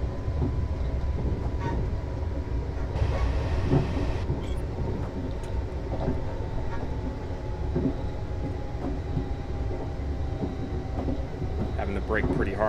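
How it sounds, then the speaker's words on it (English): A Class 444 electric multiple unit slows on the Portsmouth Direct Line in the Train Simulator 2015 game, giving a steady, loud rolling rumble with faint rail clicks and a braking hiss throughout. "Fairly long train, so I want to start braking pretty early."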